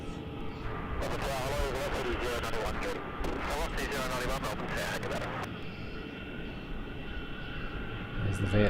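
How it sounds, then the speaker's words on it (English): A shiny teal Vietnam Airlines jet heads out from Melbourne Airport bound for Ho Chi Minh City, its engine roar steady and moderately loud throughout, with people talking over it for the first half. "I can see a nice shiny teal Vietnam Airlines heading out"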